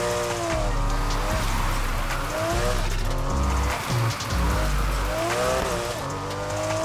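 An RSR sports car drifts in the racing game Need For Speed Heat, its engine revving loud and continuous with rising and falling pitch and squealing tires sliding through a corner.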